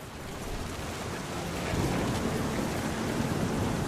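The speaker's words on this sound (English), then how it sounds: "Thunder sounded much too close and full of angry power." Thunderstorm with steady heavy rain and low rumbling thunder in the video game What Remains of Edith Finch, a dense, continuous roar that swells slightly partway through, with no voices.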